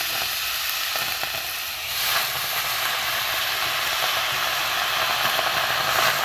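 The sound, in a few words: chopped bhetkel leaves stirred in a hot dry pan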